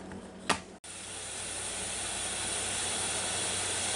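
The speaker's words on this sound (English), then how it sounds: "I see steam coming up around the pin and it's jumping around a little bit" Loud, steady hissing of steam from a pressure cooker building pressure while cooking rice and beef, preceded by a brief click and a short gap before the continuous rushing hiss settles in.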